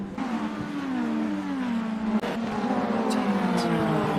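A race car engine drones loudly and steadily in an iRacing sim race at Hockenheimring, its pitch sliding up and down as revs change, with a brief dip and faint clicks partway through and no talk.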